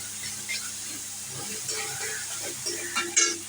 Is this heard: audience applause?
no